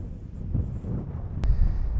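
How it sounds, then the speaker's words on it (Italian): Strong wind buffets the microphone on the Pralongia plateau during a Sellaronda mountain bike ride. It makes a constant low, rumbling roar that swells slightly toward the end, with no voices. "Molto molto vento."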